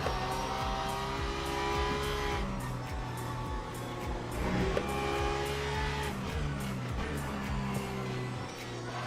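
KTM LMP race car in Le Mans Ultimate at Portimao, engine drone and gear-shift revs continuous at moderate level, with tire squeal as the car spins out among other cars passing.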